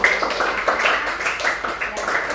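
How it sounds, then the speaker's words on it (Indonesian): Students in an Indonesian classroom applaud their presenting groups, a steady ragged round of many hands clapping at moderate distance, continuous throughout without a clear break. "coba tepuk tangan untuk kelompok kalian masing-masing"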